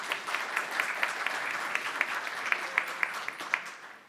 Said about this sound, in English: Now you can make a round of applause to yourselves